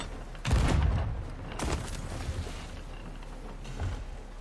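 Ship cannons fire in the Sea of Thieves video game: a heavy booming blast followed by a rumbling tail, then a second duller thump and a fainter distant boom, with no voices.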